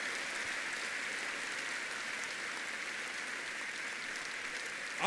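A standing church congregation gives a steady, even round of applause to the Lord, sounding somewhat distant and hall-filling, holding constant throughout.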